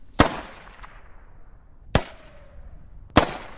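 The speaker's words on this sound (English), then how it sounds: "I thought I would fire off a few rounds just to test out the gun's accuracy" Grenade launcher on an AR15 rifle hip-fired in H1Z1 lets out three sharp, loud reports spaced more than a second apart, each decaying quickly into near silence.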